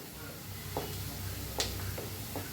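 Chopped onion frying in a pan, a low steady sizzle running throughout with a few soft scraping stirs of a spoon against the metal.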